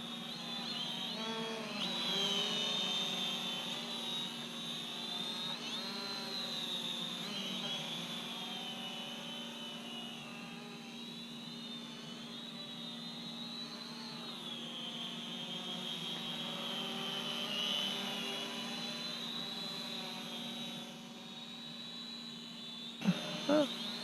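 A Syma X500 camera drone flying near a house, its steady high-pitched rotor whine droning continuously and fairly close, shifting slightly in pitch as it drifts sideways.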